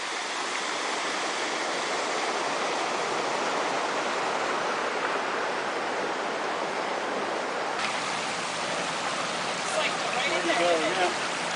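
Steady broadband rush of stream water flowing at a flume pipe cofferdam in Seattle, continuous and fairly close, with faint voices near the end.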